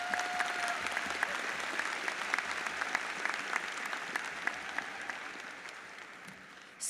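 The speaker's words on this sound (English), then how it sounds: "Please join me in giving them all a round of applause." Applause fills a large hall at a university business commencement, with steady, even clapping from a big audience that continues for several seconds before cutting off.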